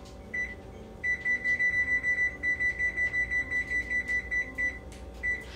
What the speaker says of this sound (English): And I'm going to set my timer.